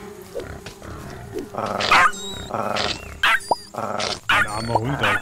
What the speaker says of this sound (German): Ein armer Hund, Alter, wird immer gestochen